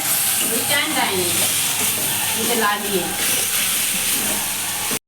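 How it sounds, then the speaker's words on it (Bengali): Spices with coriander powder, after chili, sizzle and hiss loudly in a pan while being stirred, with bursts of scraping and a continuous frying crackle throughout. "আমরা ধনে পাউডার দিয়ে দেবো বন্ধুরা। তারপর এগুলো নেড়ে চেড়ে দিতে হবে।"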